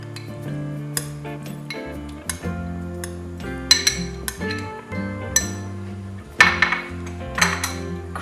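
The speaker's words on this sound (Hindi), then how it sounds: "अब मैं सब इंग्रेडिएंट्स डाल के इसको मिक्स कर लूँगी" Tuna and egg sandwich filling with cream and mayonnaise being stirred in a bowl: a steady run of clinking and scraping of a spoon against the dish, close and clear under soft background music.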